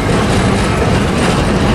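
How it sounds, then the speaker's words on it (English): A Union Pacific double-stack freight train rolls past close by, a dense continuous roar of wheels and cars with no break over its short span. "A Union Pacific stack train was right behind it."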